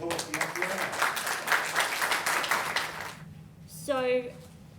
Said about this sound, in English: another round of applause for Fiona.